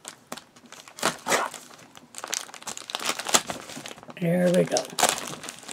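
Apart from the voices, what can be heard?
cutting open and unwrapping a package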